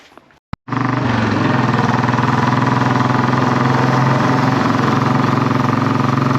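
A Royal Enfield-style Classic 500 single-cylinder motorcycle fitted with a Hitchcock's Goldstar exhaust, baffle in, starts abruptly after a brief pause and holds a loud, close, steady thumping idle.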